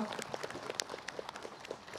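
A studio audience at an Islamic lecture gathering gives light, scattered applause for an ustazah being welcomed onstage, the claps fairly faint and uneven.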